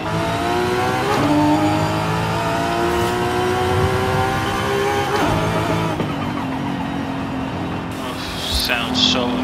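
Nissan Skyline R34 with a drag tune in Forza Horizon 5, its engine revving through repeated rising sweeps with shift breaks, loud and close, ending in a few sharp higher chirps near the end.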